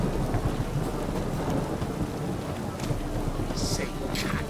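Rain pours steadily over the streets of Novigrad in a video game, with low thunder rumbling beneath a dense, close hiss of falling water and brief sharper splashes near the end.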